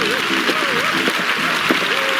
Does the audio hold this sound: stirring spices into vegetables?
no